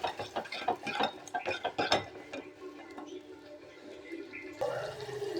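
Rasam of tomato, cumin, pepper and garlic being stirred in a pot: rapid metallic clinks and scrapes for the first two seconds, then a quieter stretch, with another short burst of clatter at the end.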